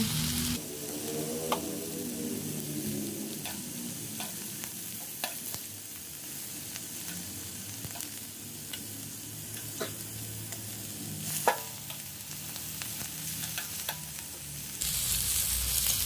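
Meat fries in a pan with a continuous, close sizzle that stays loud throughout. Occasional utensil taps and scrapes land over the hiss, one of them a sharper knock. No one talks.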